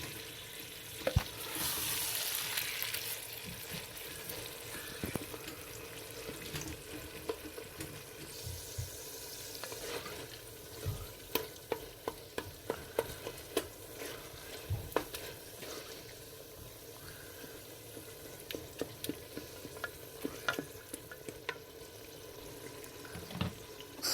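Minced meat with cauliflower frying in a pan: a soft, steady sizzle runs beneath a scattered series of spoon scrapes and taps, with a brief rush of water near the start, all fairly faint.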